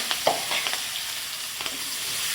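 Onion sizzling in a hot pan with asafoetida and a bay leaf for a cashew-garlic curry, a steady broadband fry with a few brief stirring clatters, close and even, no talking.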